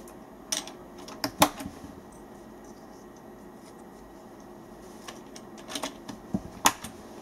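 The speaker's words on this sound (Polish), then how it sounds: "Nakładka klika." Plastic keycaps snap onto a Tt eSPORTS Knucker gaming keyboard with plunger-type switches, sharp close clicks in two short clusters separated by a quiet pause.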